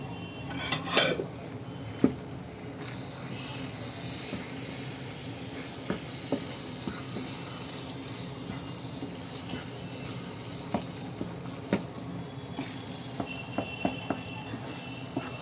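Mawa (milk solids) frying in a pan for halwa while it is stirred: a low, steady sizzle with scattered metallic clinks and scrapes of the spoon against the pan, close by and with no voices.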